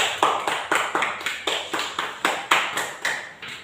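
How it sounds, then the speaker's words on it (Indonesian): A class claps hands together in a steady, even beat, about fourteen sharp claps in quick succession with no talking. "kita semua tepuk tangan"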